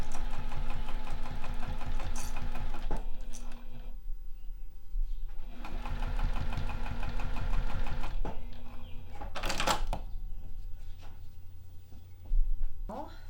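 A sewing machine fitted with a walking foot stitches a narrow edge seam on a rolled fabric or vinyl bag handle, with rapid rhythmic whirring in bursts and brief pauses, and talk heard over it.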